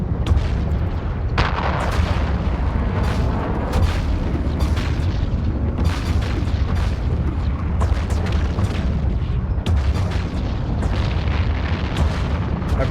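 Ship weapons firing in the space game EvE Online, a dense run of booming, artillery-like blasts that repeats steadily throughout and stays loud from start to finish, with no talk.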